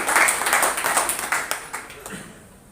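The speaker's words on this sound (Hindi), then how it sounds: "जोरदार तालियां होनी चाहिए भाई के बाद।" Audience clapping in a seminar hall, dense broadband bursts fading over a few seconds, with a voice talking over the applause.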